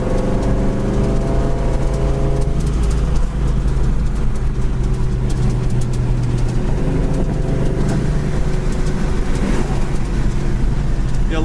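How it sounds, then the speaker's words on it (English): A 1970 Chevy Chevelle Super Sport 396 with a four-speed rumbles steadily as it drives through the gears, its engine droning low and loud throughout. "I can go through the gears, no hand on the wheel, and the car pretty much stays straight."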